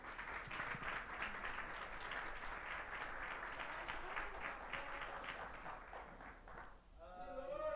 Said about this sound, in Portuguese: dá uma rica salva de palmas ao Rei Jesus.